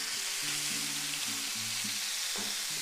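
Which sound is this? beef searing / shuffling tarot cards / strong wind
beef searing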